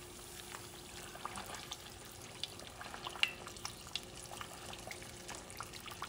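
Red snapper fries in hot grease in a pan, giving a steady soft sizzle with small scattered pops and crackles, fairly faint and without talk.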